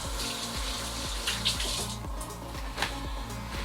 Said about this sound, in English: I'll wash them off real quick